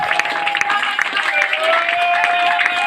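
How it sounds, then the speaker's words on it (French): A church congregation in Lyon cheers and claps in worship, a lively crowd of clapping with sustained voices and a held musical tone running beneath. "Des acclamations pour le roi."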